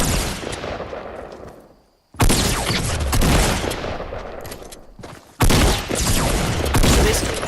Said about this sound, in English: this is where another crazy fight happens, where I do miss a ton of shotgun shots again